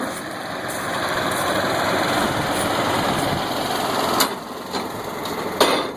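A directional drill rig engine runs steadily nearby with a high, buzzing drone while boring a geothermal earth loop, punctuated near the end by a few sharp metallic clanks.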